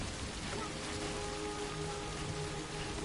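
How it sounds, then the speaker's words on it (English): Steady rain falls in the Death Stranding game world, a soft, even hiss of drops on surfaces that continues unbroken with no voices. "It's not gonna stop raining."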